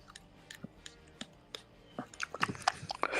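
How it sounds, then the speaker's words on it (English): Irregular wet chewing and mouth clicks sound close to a microphone, faint at first and then louder and busier toward the end, during a live sports talk show about a Ravens vs Buccaneers Monday night game. "I hear somebody doing like chewing weirdly in the background"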